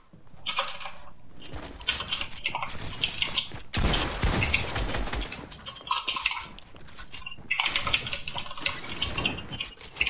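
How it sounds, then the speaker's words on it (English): A shotgun fires in Fortnite, one sharp, loud blast midway through a busy stretch of clinking and chattering game effects. "Now I just have to hit you once with the shotgun there"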